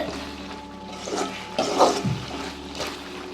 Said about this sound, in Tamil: புளி தண்ணி ஊற்றி இந்த அளவு கொதிச்சிருச்சு.